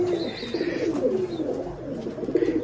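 Giribaj pigeons coo in low, throaty, rolling calls, continuous and close by, with no talking.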